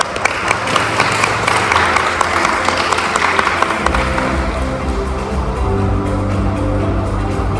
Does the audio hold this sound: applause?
yes